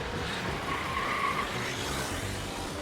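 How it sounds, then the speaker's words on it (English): Limousine tires screech to a halt in the Steins;Gate Elite video game, a sustained skidding squeal over a rushing wash of road noise, fairly faint and continuous for a few seconds. "This screeches to a halt right in front of me."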